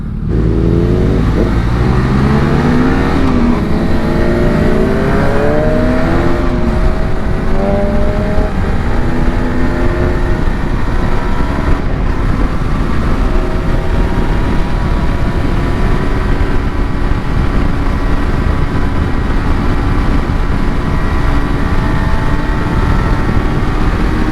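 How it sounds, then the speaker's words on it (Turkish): A group of large motorcycles rides together on the road to the Adana motorcycle festival. Their engines make a steady, loud, close drone with rising revs throughout, and no one speaks. "Şimdi bizim dev motorlar ileriden gidecek."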